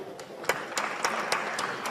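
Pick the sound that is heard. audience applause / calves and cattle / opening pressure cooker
audience applause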